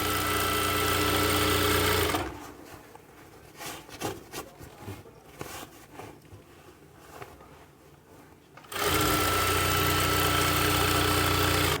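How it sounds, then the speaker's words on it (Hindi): A sewing machine stitches gathers into palazzo fabric, a steady mechanical hum that drops to quieter intermittent whirring and fabric handling in the middle before the loud running resumes, with no talking. "तो ये इस तरीके से जो सिलाइयाँ मैंने लगाई हैं"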